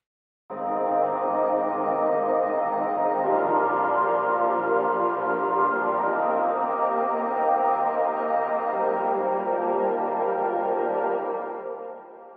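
Sustained future bass synth pads from a sample pack, a thick layered chordal wash that swells in and holds steadily at full level for about eleven seconds before tapering off, with no voices.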